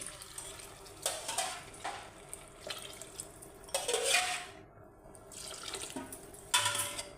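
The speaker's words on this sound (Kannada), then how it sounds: "ಎರಡು ಗ್ಲಾಸ್ ಅಕ್ಕಿಗೆ ನಾಲ್ಕು ಗ್ಲಾಸ್ ನೀರು ಹಾಕ್ತಾಯಿದ್ದೀನಿ" Water is poured from a glass onto rice in a cooking pot for white pulao, heard as several short, splashy pours with clinks of metal between them, fairly quiet and close.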